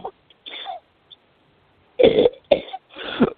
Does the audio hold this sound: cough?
yes